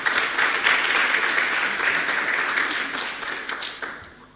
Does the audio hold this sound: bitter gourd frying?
no